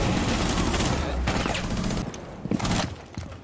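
Rainbow Six Siege gunfire in online play: dense rapid bursts of shots fill the first seconds, then fade into scattered single cracks, with players talking over the action.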